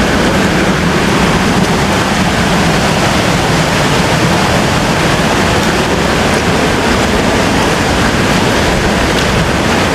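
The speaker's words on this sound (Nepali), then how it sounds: "पानी परिरहेछ मैले चाहिँ छाता ओढिरहेछु सिमसिम पानी" Steady drizzle falling over a park in Dharan, a dense continuous hiss that stays loud and even throughout, with no voices.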